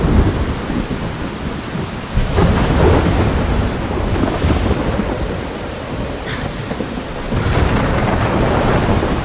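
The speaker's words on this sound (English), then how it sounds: "I'm trapped in a storm?" In the video game Life Is Strange Remastered, a thunderstorm rolls with loud, booming thunder over steady heavy rain, swelling in waves with gusts, and no one speaking.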